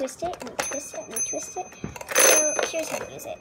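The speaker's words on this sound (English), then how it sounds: "So it's gonna make a little ring sound like this." A toy Chatterbox phone gives a short metallic bell ring with a few quick dings, heard close under a child's chatter.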